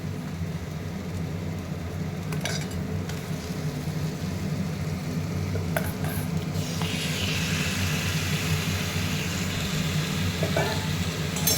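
Steady sizzling of chicken frying in a pan for chicken curry, with occasional stirring clatter and a brief louder hiss of moisture hitting hot oil.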